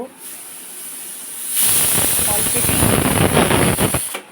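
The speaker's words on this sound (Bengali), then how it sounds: "ওদিকে আমার প্রেশার কুকারের সিটি পড়েছে" A pressure cooker whistle goes off, starting as a sudden loud, sustained hiss of escaping steam after a quiet stretch and holding strong for a few seconds before cutting off.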